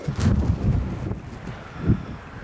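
Wind gusting across an open golf course, buffeting the microphone in low rumbling bursts that swell and fade over a couple of seconds, with no talk.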